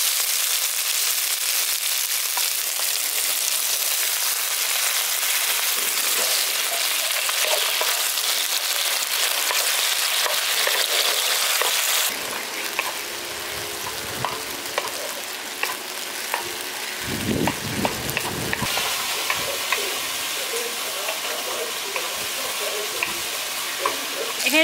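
Spice paste frying in a pan bursts into a loud, steady sizzle, shifting midway as a little water is added and the hiss turns wetter and more broken, with occasional stirring clicks.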